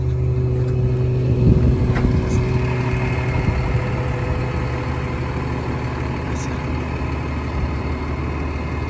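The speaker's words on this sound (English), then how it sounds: "It's a Honda powered pressure washer. Starts right up." A Honda-powered pressure washer engine mounted on a 2006 Freightliner M2 106 utility service truck runs at a steady, even drone throughout, close and moderately loud with no talking.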